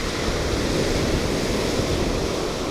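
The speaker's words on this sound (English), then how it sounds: "It is pretty windy out this morning." Strong wind on a Florida Gulf Coast beach roars steadily across the microphone with a broad, rumbling rush, surf-like noise filling the whole clip without a break.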